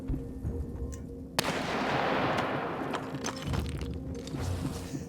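Sniper fire cracks out over a construction site in This War of Mine, one sharp shot followed by a washing roar and a few more scattered distant reports, with no talk.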